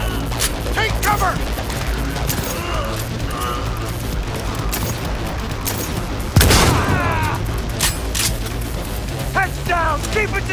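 Gunfire in the video game Cyberpunk 2077, a steady din of shots and mechanical clatter with a louder burst midway, mixed under shouted combat voices.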